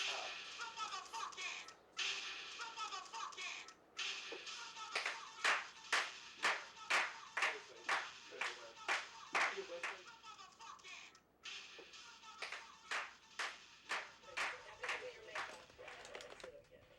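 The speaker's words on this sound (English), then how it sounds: "Clap for her, girl." People clapping indoors in a steady run of sharp, distinct handclaps that quicken and continue for many seconds, fairly faint overall, with brief pauses between bursts.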